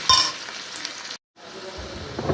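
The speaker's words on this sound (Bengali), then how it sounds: "পেঁয়াজটা লাল লাল করে ভালোভাবে ভেজে" Chopped onions fry in oil until reddish brown for a mutton curry. A close, crackling sizzle runs throughout, cut by one short silent break partway through.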